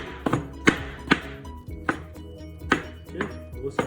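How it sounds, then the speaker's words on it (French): Knife chopping quartered tomatoes on a cutting board for homemade pizza sauce: a series of about ten sharp, close thunks in an uneven rhythm, with no voices. "Ensuite, je vais les hacher."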